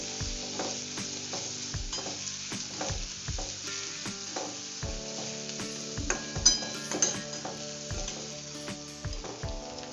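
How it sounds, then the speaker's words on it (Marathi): Chopped coriander stirred and sautéed in a pan for cabbage paratha, a steady soft sizzle broken by regular scraping strokes and light clinks of a spatula against the pan, close and moderately quiet. "तर यामध्ये एक मोठी वाटी बारीक चिरली कोथिंबीर आहे ती टाकून घ्यायची याने पराठे खूप छान होतात त्याला चांगलं परतून घेऊया"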